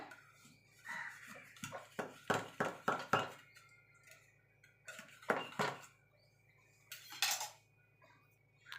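A utensil scrapes and knocks around the sides of a metal pan to free a cooled orange cake, giving clusters of short clattering taps with pauses between, close and fairly quiet.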